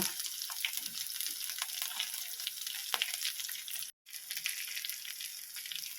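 Garlic fries in a pan for Mangalore-style clams sukka, a close, continuous sizzling hiss broken by occasional stirring scrapes and a brief silent gap midway.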